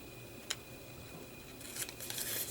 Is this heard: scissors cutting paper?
yes